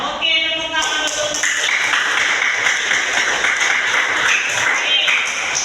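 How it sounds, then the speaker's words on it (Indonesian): A class of children claps in a dense, rhythmic patter that carries on for several seconds. It follows a brief chiming tone at the start and fills the room evenly. "Oke, tepuk tangan dulu."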